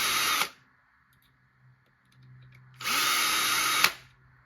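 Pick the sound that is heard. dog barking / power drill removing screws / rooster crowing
power drill removing screws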